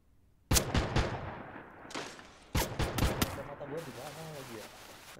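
Gunfire in the Free Fire video game cracks out in sharp bursts, a quick cluster of close shots, a pause, then another volley, with a person speaking over the later part.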